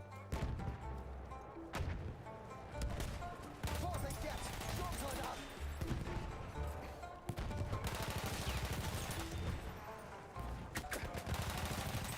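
Rapid SMG bursts in Battlefield 1 crackle through dense, near-constant combat, with fast repeated shots layered over other battle noise and game sounds.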